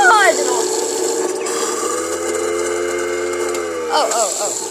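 A garbage disposal grinds sausage with a loud, steady motor whine and a buzzing, tonal hum that holds for several seconds. Brief rising squeals mark the start and end.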